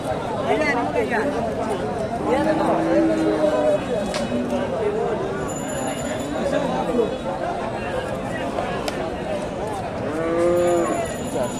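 Cattle, including Friesian bulls, moo repeatedly at a busy cattle market in Bogura, with several low calls rising over constant crowd chatter and people talking nearby.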